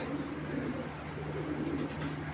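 A large female racing pigeon, club-banded number 44 from 2021, coos low and softly over a steady background hum, faint and close, with a murmur of voices nearby.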